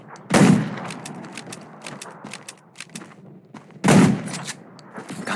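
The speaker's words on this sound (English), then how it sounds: "Gunshots will attract more zombies." Two loud gunfire bursts ring out in the zombie survival game Undawn, one near the start and another about three and a half seconds later, with sharp mechanical clatter and shots in between and no speech.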